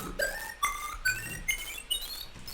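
A synth bass with an LFO on the FM of its sub oscillator, sounding as a run of short glitchy, chirping tones with bright pitched streaks. The bursts arrive about every half second, close and fairly quiet, with no voice.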